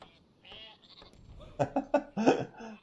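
Sheep bleat in the Northgard strategy game, several short wavering cries close together, followed by louder, busier game sounds toward the end.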